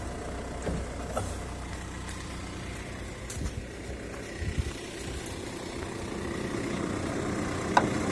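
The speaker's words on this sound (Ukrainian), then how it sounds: "Все, це ще холодний мотор, він тільки що завівся." A cold Volkswagen Crafter van engine idles just after starting, a steady low rumble close by with a few faint knocks and clicks over it.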